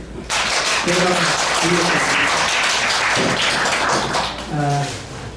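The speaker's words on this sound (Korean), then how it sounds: "일단 시작하기 전에 박수를 한번" Audience applause at a poetry reading event, a broad wash of clapping from a seated crowd with voices speaking over it at moments, fading near the end.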